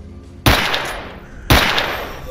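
Gunfire in the video game S.T.A.L.K.E.R. while fighting brute zombies, two loud, close bursts about a second apart, each with a long rumbling tail, and no talk.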